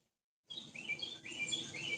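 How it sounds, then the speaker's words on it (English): Birds chirp and tweet outdoors after a moment of silence, bright repeated calls overlapping in a steady, moderately faint chorus with no voices. "Oh, you hear the birds?"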